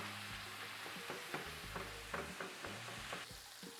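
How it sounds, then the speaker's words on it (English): Ground beef fries in a pan while a utensil stirs and breaks it up, a steady close sizzle punctuated by repeated scraping knocks against the pan. "give it a really good stir. And just break up this meat as much as we can"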